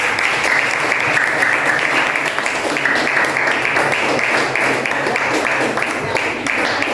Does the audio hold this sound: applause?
yes